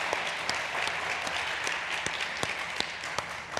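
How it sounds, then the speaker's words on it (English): An audience at a fintech and insurtech startup pitch competition applauds a presenter, a dense, continuous patter of clapping with a few sharp, louder claps from nearby hands standing out. "round of applause"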